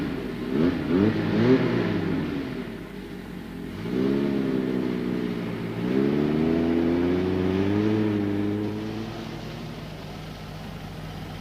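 A car engine revs hard and strains while driving out of sand on deflated tyres in outback country, rising and falling in three long surges, close and loud with no talk.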